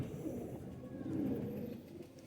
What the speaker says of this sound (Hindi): ये चंदा खानी गजरे कबूतर है